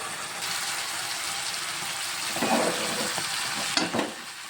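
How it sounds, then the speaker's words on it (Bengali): Amadi fish frying in hot mustard oil in a pan, a steady close sizzle with scraping stirs as the pieces are turned, a couple of louder clatters near the end. "মাছটা এরকম ঘুরিয়ে ঘুরিয়ে এক পিঠ লাল করে রান্না করে নেব।"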